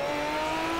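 An Aston Martin Vantage GT3 engine in a Project CARS race at Sonoma drones at high, steady revs, a loud continuous tone held throughout this short moment with no break.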